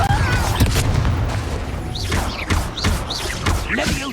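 The Confringo blasting spell fires in Hogwarts Legacy on Xbox Series X, a series of loud, punchy booms and crackling impacts spaced roughly half a second apart amid game combat noise.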